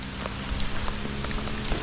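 Heavy typhoon rain pours down steadily in a dense, close wash of drops drumming on surfaces, with scattered louder splashes and no speech over it.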